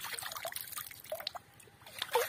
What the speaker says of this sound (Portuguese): é um igarapé, água corrente, a água tá correndo aí, ó.